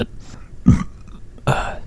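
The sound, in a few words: burp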